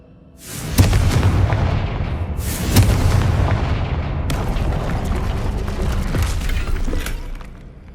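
Fiery explosions from the Confringo spell in the game Hogwarts Legacy: several loud deep booms in quick succession, each followed by a rumbling roar and debris crackle that fades out after about seven seconds.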